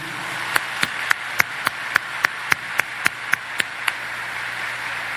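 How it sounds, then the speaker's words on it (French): About a dozen sharp claps in an even, regular beat ring out in solidarity at a gathering, each crisp and distinct over a faint background murmur. "On encourage le monde de bien yo avec un gros applaudissement solidarité"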